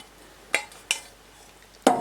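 Eggs being stirred into melted chocolate and butter in a bowl, with three sharp, close utensil clinks against the bowl spaced over two seconds above a quiet background.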